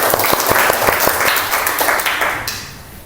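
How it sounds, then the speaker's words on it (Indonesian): A classroom of students claps for a classmate in a burst of brisk, scattered applause that swells, holds, then fades out near the end, loud and close. "Tepuk tangan untuk Danisa."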